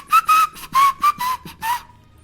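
A man whistles a cheerful tune in short, bright notes, about seven distinct phrases separated by brief pauses, close and clear with nothing else around.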